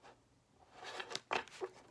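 Tarot cards being shuffled by hand, a few soft papery riffles and slaps that build to a sharper burst near the end, close and fairly quiet, with no talk over them.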